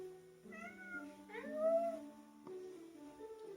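A cat meows a few times, each call medium in length and rising then falling, clear and close in a quiet room.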